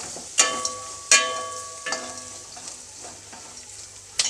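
A spoon stirs flat bean (chavali kayi) curry with coriander leaves in a pan, making a few sharp scraping clatters over a low, continuous sizzle, close up.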